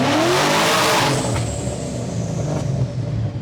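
Car engine revving hard as it passes through a short underpass, loud and echoing at first, then easing into a steadier drone as it moves on.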